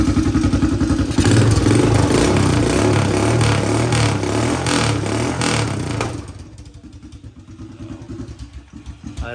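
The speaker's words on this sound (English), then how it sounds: "Idle definitely needs to be bumped up a little bit, so I'll bump up the idle" A rough Honda TRX 250ex ATV engine running with an open header and no muffler idles with a loud, uneven, throbbing chug, then settles into a lower, lumpier putter near the end.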